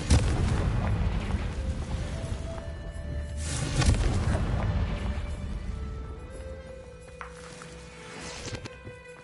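Booming Confringo spell explosions in Hogwarts Legacy, a loud burst near the start and a heavier blast a few seconds in, with rumbling crashes and game effects trailing off.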